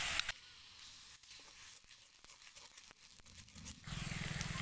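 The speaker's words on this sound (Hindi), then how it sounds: "अब हम इसमें डाल देते हैं 1 चम्मच अदरक लहसुन का पेस्ट और इसे भी भून लेंगे।" Ginger garlic paste frying in a pan, a soft steady sizzle with light crackles and occasional clicks of a spoon against the pan, quiet and close, swelling louder near the end.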